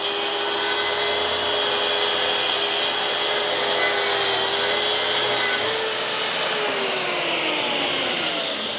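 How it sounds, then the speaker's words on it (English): A Festool TS55 track saw cuts through wood, a loud steady motor whine with the grinding rasp of the blade, holding even throughout with a slight pitch shift partway. "as I'm cutting, I'm not pushing from the side, I'm pushing from behind and just letting the saw do its"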